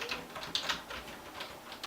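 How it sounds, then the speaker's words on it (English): Faint, quick key clicks come from a Logitech K480 Bluetooth keyboard as someone types on it, an irregular run of soft taps heard close with no talking. "I can be typing here on my iPad, and then if I wanted to go over to my PC, just flip the dial, and I'm typing up here"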